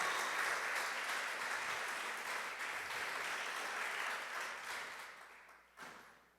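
A church congregation breaks into dense, sustained applause during a sermon, a steady wash of many hands that gradually fades toward the end, with one brief final burst.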